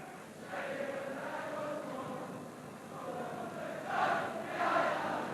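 Football crowd at a 1983 Celtic v Hearts match buzzing through the half-time interval after a goal, a steady murmuring roar that swells in places, with some speech in the mix.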